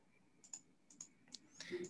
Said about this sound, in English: it's updating as I'm typing it in